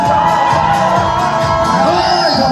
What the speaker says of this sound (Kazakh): Достар, коллектив, айғай-шу шапалақ қайда?